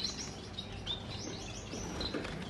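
Yellow-mutation Gouldian finches in a breeding room give quick, high chirps and tweets, scattered and fairly soft over a steady background hiss.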